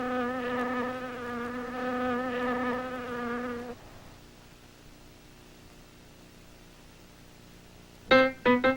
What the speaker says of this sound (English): I think it's a bee.